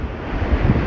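Shore break waves roll onto a beach at a kite centre in Sethawadi, a loud, constant surf roar blended with strong wind rumble on the microphone.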